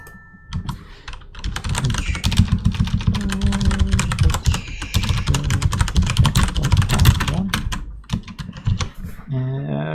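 Fast, continuous typing on a computer keyboard during a Heroes & Generals session, dense clattering keystrokes close up for most of the stretch, with brief pauses and a short burst of other noise near the end.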